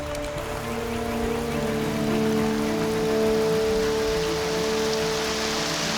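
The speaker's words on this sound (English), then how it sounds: "Normally these tropical downpours just last a short time. They're very violent and then they finish." Heavy tropical downpour drums steadily on surfaces, a dense, continuous rain roar with a low engine-like hum beneath, no voices.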